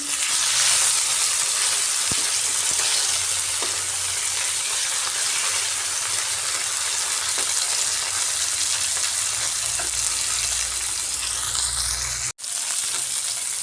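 Flipped fish pieces keep frying in mustard oil with a constant, close hiss and crackle, a few sharp taps of a utensil, and a brief dropout near the end.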